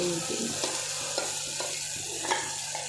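Ground paste of spinach (palak), mint, coriander, ginger and garlic cooks in a pan for palak biryani, giving a steady soft sizzle with scraping stir strokes at regular intervals.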